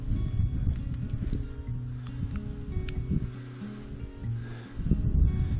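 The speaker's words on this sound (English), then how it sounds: "It's kind of windy, so I hope y'all are hearing this." Steady wind buffets and rumbles across the whole stretch at Purchase Knob in Great Smoky Mountains National Park, a dense low roar with gusty swells and no talking.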